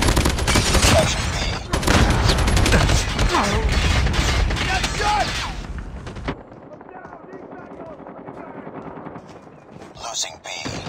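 Heavy rapid gunfire in a Call of Duty Mobile 10v10 match, dense and loud bursts for about six seconds, then the firing drops to quieter scattered shots with a brief flare near the end.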